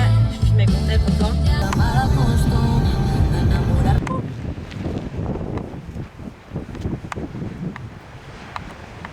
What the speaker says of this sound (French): je pense qu'on entend rien que ce vent